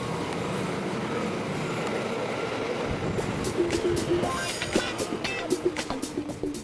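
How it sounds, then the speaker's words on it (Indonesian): Commuter train pulling into a station in Jakarta, a steady rumble and rail noise building, then a run of rhythmic clacks and squeal-like tones as the cars roll in nearby, with no talk. "akhirnya kereta yang akan saya tumpangi tiba"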